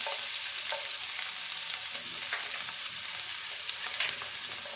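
Onions fry in hot oil for a mushroom mustard curry, a dense steady sizzle close by with faint stirring scrapes now and then, no voices.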